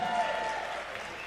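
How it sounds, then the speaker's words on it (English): A crowd claps together in a steady wash of applause, moderately loud and continuous throughout. "if you were at Lucille's, clap so I can hear you"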